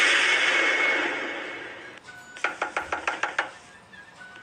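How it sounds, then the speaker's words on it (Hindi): Someone raps hard and fast on a car window in an animated horror story, about nine sharp knocks in quick succession that follow a fading hiss. "तभी उसकी गाड़ी की खिड़की पर जोर से एक आवाज हुई, जैसे किसी ने बहुत जोर से उसकी गाड़ी की खिड़की को खटखटाया हो।"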